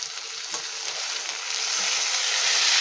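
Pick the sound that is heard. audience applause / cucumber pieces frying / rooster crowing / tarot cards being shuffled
cucumber pieces frying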